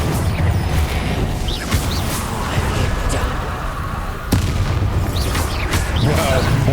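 A Confringo explosive spell blasts in Hogwarts Legacy during a fight, with loud booming impacts and crashes amid dense, continuous combat noise; a voice speaks in between the hits.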